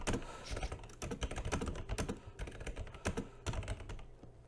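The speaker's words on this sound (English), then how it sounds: "Intense typing." Fast, intense typing on a computer keyboard: dense, irregular bursts of close key clicks and clacks rattle on continuously throughout.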